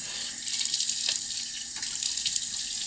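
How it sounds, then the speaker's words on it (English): Water runs steadily from a bathroom tap into a sink while a face is being wetted, a close continuous hiss with light splashy flutters. "Turn the water off so you don't kill any fish, waste water"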